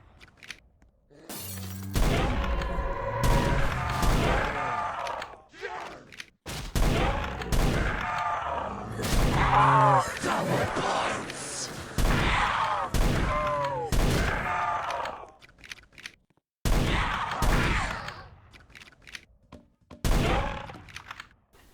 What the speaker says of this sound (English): when I first started using this weapon I was really impressed because it sounds really mean for a smaller shotgun